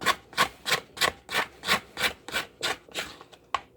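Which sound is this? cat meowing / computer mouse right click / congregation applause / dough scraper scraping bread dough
dough scraper scraping bread dough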